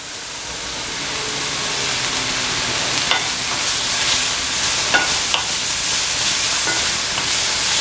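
Elk meat and mushrooms fry in a pan with a steady, close hissing sizzle that builds slightly, broken by a few faint clicks of stirring.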